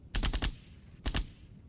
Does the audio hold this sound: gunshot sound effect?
yes